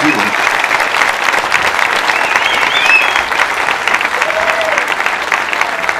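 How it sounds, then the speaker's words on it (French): An audience applauds a singing union musician, dense continuous clapping filling about six seconds with a few voices and whistles rising over it. "Ouais, on l'applaudit."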